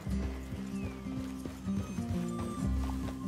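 Horses clip-clopping in Red Dead Redemption 2, a run of close hoof clops with a snort or whinny mixed in, over a low ambient bed.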